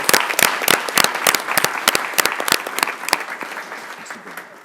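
Applause at a Board of Education meeting after a song performance: sharp, loud claps from a room of people, dense at first and thinning as it tapers toward the end, with no talk.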